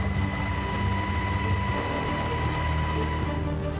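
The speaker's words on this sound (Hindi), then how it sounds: "MH-60 सीहॉक एक मल्टी रोल अटैक कम सर्विलांस हेलीकॉप्टर है।" An MH-60 Seahawk multi-role naval helicopter in flight gives a steady, dense whirring drone of rotor and turbine, loud and unbroken with faint tonal whine on top.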